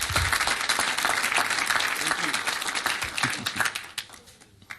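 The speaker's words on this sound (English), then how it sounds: "Let's give them a round of applause" A city council meeting audience gives a round of applause, dense sustained clapping close and loud that tapers off near the end.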